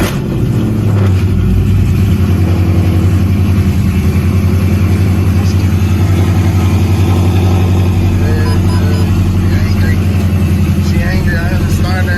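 Widebody Dodge Challenger Scat Pack V8 engine starting and idling with a deep, loud low rumble and some revving, close up, with a voice speaking briefly over it.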